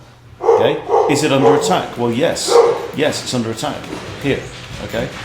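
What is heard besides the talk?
excited dog barking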